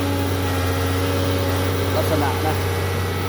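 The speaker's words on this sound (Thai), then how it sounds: "เครื่องยนต์ เบาไหม เดี๋ยวให้พี่น้องฟังใกล้ๆครับ" A Doosan DX140LCA excavator's diesel engine idles steadily up close with a constant low rumble and slight whine, while a person speaks briefly over it.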